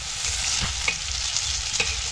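Rava-coated mandeli fish fry in oil in a pan with a continuous close hiss and sizzle, broken by a few soft pops.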